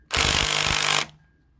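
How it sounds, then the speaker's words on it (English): A small handheld impact wrench with an extension hammers at the oil pan bolts of an LS engine, one loud rattling burst of about a second that then drops off, with no voices. "That's what I'm doing, just a little handheld impact."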